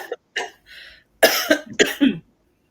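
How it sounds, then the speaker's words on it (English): A handful of short, sharp coughs, a couple of quick pairs separated by brief pauses, close and fairly loud. "You turned the camera on, but we still coughing."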